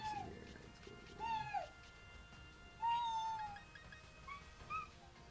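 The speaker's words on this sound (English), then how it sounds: "you're also meowing over me talking" A house cat meows several times in drawn-out, rising and falling calls, fairly close, over a faint background hum.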